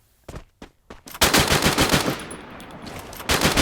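M60 machine gun fire in the video game Free Fire: a few separate shots, then a loud, sustained rapid burst of automatic fire that briefly breaks off and resumes near the end.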